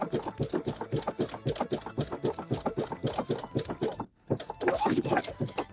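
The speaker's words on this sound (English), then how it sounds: "Make sure you have your buttonhole selected on your sewing machine." A sewing machine stitches a corded buttonhole with a dense zigzag over cording, a rapid, steady mechanical chatter of needle strokes up close that pauses briefly before resuming.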